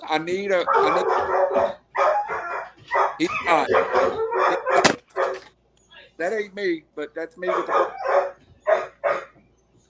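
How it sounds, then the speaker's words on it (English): Dogs bark and yip off in the background while a person talks steadily over them, the barking partly buried under the voice. "I'm sorry if you can hear those dogs in the background"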